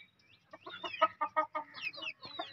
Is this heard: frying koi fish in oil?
no